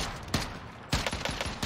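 Gunfire from the video game Call of Duty Warzone, a slow-firing gun letting off sharp shots, one isolated and then a quicker run of several, close and fairly loud over a steady background.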